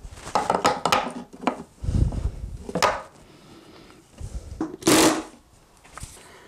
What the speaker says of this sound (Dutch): Hamertje.